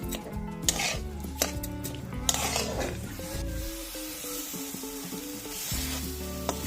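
Milk and chhana are stirred in a pan for Bengali dudh puli, with a soft steady sizzle and repeated scrapes and clinks of a spoon against the metal, close and fairly quiet.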